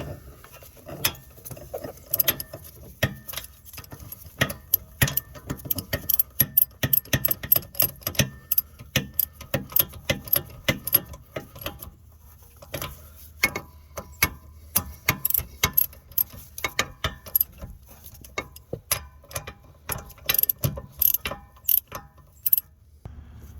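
A hand ratchet tightens the wheel bolts on a 2018 Nissan Altima, its quick clicking coming in close, repeated bursts with brief pauses between them.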